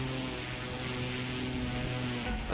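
A propeller plane engine drones in The Crew 2 racing game, a steady, loud, close hum with constant pitch and no speech over it.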